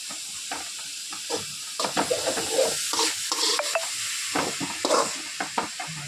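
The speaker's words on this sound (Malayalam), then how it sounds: "നമുക്കത് ഇളക്കി കൊടുക്കാം" Food is stirred in a cooking pan over a soft sizzling hiss, with irregular scraping and light knocks of a spoon against the metal, close and moderately quiet, with no talking.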